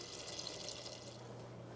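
Water poured into an Instant Pot holding rice for homemade dog food, a soft continuous splashing pour, faint and steady for under two seconds with no voices.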